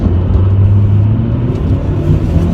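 A 2017 Hyundai Accent accelerates up a highway on-ramp, its engine giving a steady, strained drone over heavy road rumble that holds loud and close with no voices throughout.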